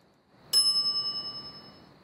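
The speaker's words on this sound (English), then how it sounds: "some idiot's already ringing that stupid bell" A single bright ding of a shop service bell in The Secret of Monkey Island, struck once and then ringing out with a long metallic decay in an otherwise quiet scene.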